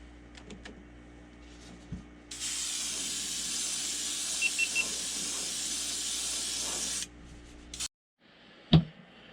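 Spray primer from a can hisses steadily onto fishing lures for about five seconds, close and loud, then cuts off, followed by a few faint clicks and a knock.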